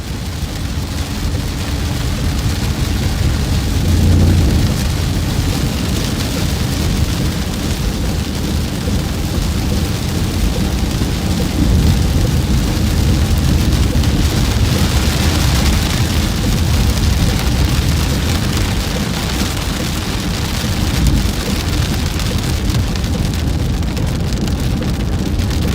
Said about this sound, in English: that was a huge lightning strike. And there's a storm, I think.